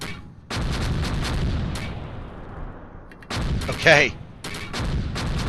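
Mortar barrage in the World War II strategy game Close Combat: Gateway to Caen, with repeated loud booming blasts and rumbling impacts in quick succession, plus a brief spoken word in the middle.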